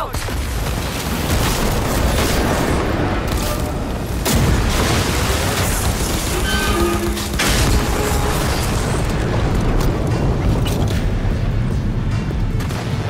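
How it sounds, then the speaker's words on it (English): An enemy blows up in Cyberpunk 2077: Phantom Liberty, Dogtown: loud, dense booming blasts and rumbling mechanical clatter fill the whole stretch, with a brief tonal whine partway through. "He's gonna explode."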